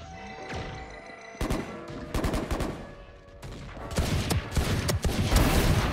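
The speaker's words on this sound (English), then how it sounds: "I know multiple of those shots hit you" Gunfire from an online shooter video game played over a laggy connection crackles in rapid bursts, separate volleys of sharp shots with brief gaps, growing denser and louder toward the end.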